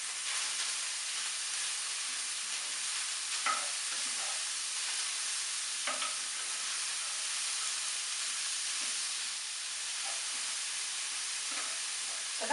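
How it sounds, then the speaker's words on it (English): Chicken pieces and leeks frying in a pan for coq au Riesling, a steady close sizzle and hiss with occasional soft scrapes and stirs, no voices. "get the leeks in there as well, and they will just soften a little bit"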